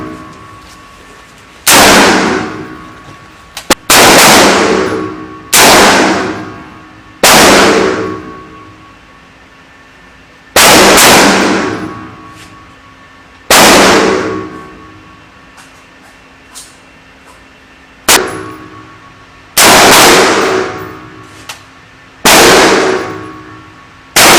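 Single rifle shots crack out on an outdoor Army shooting range during trials of a new service rifle meant to replace the M4 carbine: about nine loud, close reports at irregular intervals, each trailing off in a long echo.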